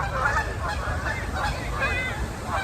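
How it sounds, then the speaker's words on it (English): Geese honk repeatedly in a loud, close, overlapping chorus of nasal calls over a low rumbling background. "Look at the geese."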